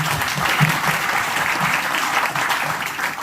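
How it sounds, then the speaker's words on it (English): An audience claps steadily, a dense, even wash of applause lasting the whole few seconds. "Can we have huge round of applause?"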